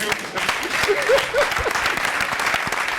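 A studio audience on a live TV talk show applauds, a dense, even clatter of many hands at close range with a faint voice briefly rising over it.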